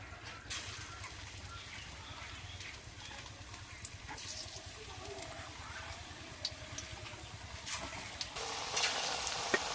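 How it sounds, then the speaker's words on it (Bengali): Coconut fritters (pakoras) fry in hot oil with a steady soft sizzle and crackle throughout, growing slightly louder and brighter near the end. "একই রকম ভাবে আমি বাকি বড়াগুলোও ভেজে নেব।"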